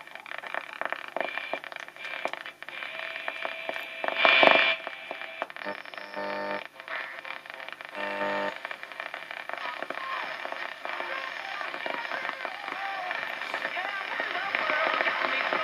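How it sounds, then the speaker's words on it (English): Interference crackle and static hiss from a small Philips B0X97U bakelite radio with a choppy tuning, a steady noisy wash broken by a louder burst and a few brief pulsing bands, with no clear station coming through. "A lot of interference."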